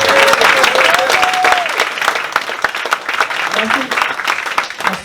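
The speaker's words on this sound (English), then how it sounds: "How about a round of applause for Tim Warfield?" An audience at the Blue Llama Jazz Club breaks into sustained applause: dense, close clapping that fades slightly over a few seconds, with a voice talking over it.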